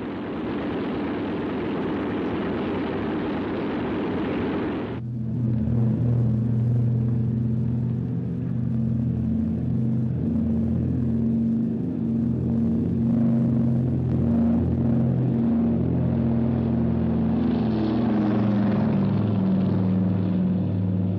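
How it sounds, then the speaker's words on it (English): C-47 aircraft engines drone loudly as they tow a glider for takeoff, a deep steady propeller rumble that settles into a sustained roar after a noisy start, with no voices. "I have a C-47 and a glider ready for immediate takeoff."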